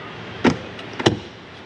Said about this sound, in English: Close your exterior door, lock and deadbolt your door.